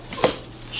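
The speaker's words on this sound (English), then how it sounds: "My puppies would be making sound" Puppies give a brief high whimper near the middle, with faint whining yips around it, close and fairly quiet over a soft background hum.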